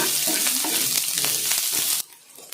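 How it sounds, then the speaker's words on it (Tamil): Onion, green chili and curry leaves sautéed in hot oil for a quick side to puris, a loud, dense sizzle with stirring scrapes that stops abruptly after two seconds, leaving quiet. "எல்லாம் சேர்த்து வதக்கி விடலாம்"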